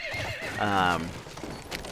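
A cavalry horse in the Battlefield 1 video game gives a loud, close whinny over rhythmic hoofbeats while jumping obstacles, with a brief stretch of game sound around it.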